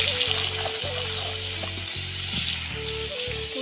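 Cauliflower frying in plenty of oil sizzles steadily, with a soft crackle and hiss that persists throughout at moderate loudness, alone without talk.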